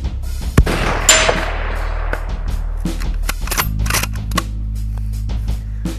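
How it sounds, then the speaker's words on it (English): SIG SSG 3000 rifle fired at a long-range shooting session, a few sharp, loud cracks spaced apart, each followed by a brief echoing decay, with softer clanks and thumps between shots. "After Greg got the info on SIG's SSG 3000 rifle from Dave, it was time to send rounds downrange."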